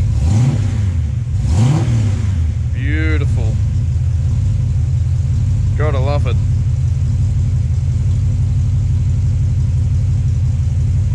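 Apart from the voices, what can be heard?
new 450hp Ford 351 Cleveland V8 engine idling at 1000 RPM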